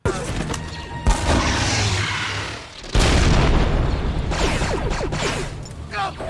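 A rocket fires and explodes in a Star Wars: The Bad Batch episode, with loud booming blasts and crashing rumble filling the scene, then a second heavy burst followed by rolling debris noise.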